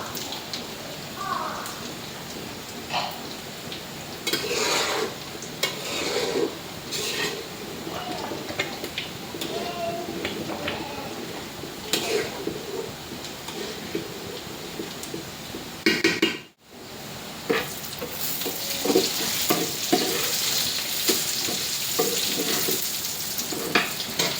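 Dry red chilies fry in hot oil, giving a steady, dense sizzle and crackle that runs almost the whole time, cutting out abruptly for a moment near the end before resuming.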